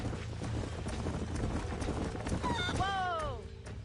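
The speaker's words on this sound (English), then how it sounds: "These are fine horses." Horses in the video game Red Dead Redemption, with steady clip-clop of hooves under a low rumbling background, then a clear whinny rising and falling near the end, fairly close.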